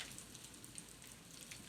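Steady rain falls outside, a soft continuous patter of drops at a low, even level, with no voices present.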